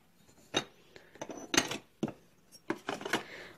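Hamster food bowls are set down one after another, producing a handful of close, sharp clinks and knocks in an irregular rhythm with brief quiet gaps between.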